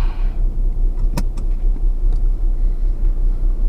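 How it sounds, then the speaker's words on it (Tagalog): Inside a vehicle stuck in road traffic, a steady low engine and road rumble fills the cabin, with a couple of brief sharp clicks or knocks and no speech. "Traffic."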